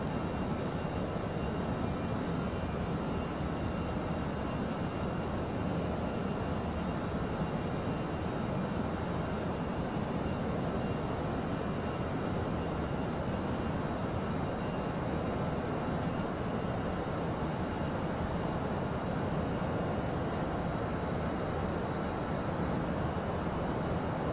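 An Airbus A320 cockpit in a flight simulator during the climb to cruise altitude, a steady, unbroken roar of engine and airflow noise that fills the whole stretch without change.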